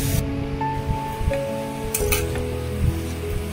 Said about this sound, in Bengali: এবার জলের সাথে খুন্তি দিয়ে এটা ভালো করে মিশিয়ে নেব।